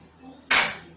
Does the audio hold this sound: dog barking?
no